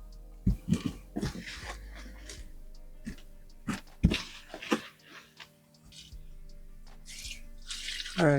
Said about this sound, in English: the water's leaking out the side